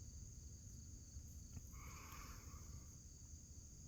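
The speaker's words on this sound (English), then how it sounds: "I'm going to sit out here and enjoy listening to the tree frogs, the bugs," Tree frogs and insects calling together at night, a dense continuous high chirring with a brief brighter burst of calls midway, soft and distant, with no talking.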